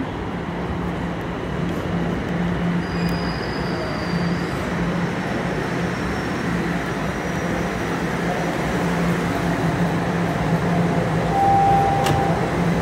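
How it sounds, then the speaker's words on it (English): A southbound Toronto TTC subway train rumbles steadily into an underground station platform, a broad continuous roar with a low hum that swells slightly toward the end. "here's the southbound train."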